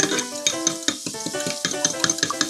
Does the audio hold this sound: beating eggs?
yes